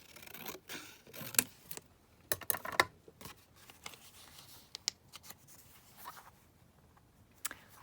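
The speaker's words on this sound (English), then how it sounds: "Just going to cut it down very slightly here." Scissors cut a square of 12 x 12 patterned paper for an accordion book, making faint, close snips and soft paper rustles in a scattered, uneven rhythm.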